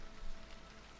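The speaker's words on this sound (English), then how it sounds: "I love a good rain." Steady rain patters on a surface throughout, a soft even hiss with no voices, heard as ambience during a Dungeons & Dragons session at the ruins of Thundertree.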